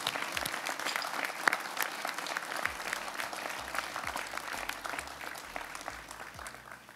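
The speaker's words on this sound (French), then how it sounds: "Et nous pouvons ce soir les applaudir et les remercier." An audience at a town's New Year's address in Maromme breaks into sustained, dense applause, many hands clapping continuously from start to end with a few sharper claps standing out.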